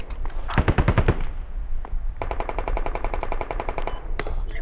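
Machine gun fire in the military shooter Squad: a short loud burst nearby, then a longer steady rattling volley at an even rate, with scattered other shots mixed in.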